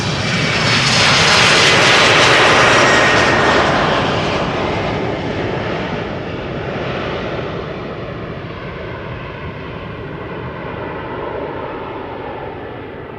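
An Embraer 190 jet airliner takes off at Amsterdam Schiphol, a loud, broad engine roar that peaks early, then slowly fades and dulls as the jet climbs away.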